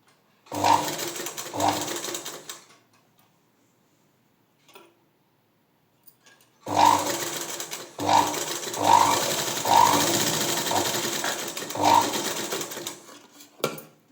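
A sewing machine stitches fabric for trendy dori hangings in loud bursts of rapid mechanical clatter, a short run, a pause of near silence, then a longer run with rhythmic ticks.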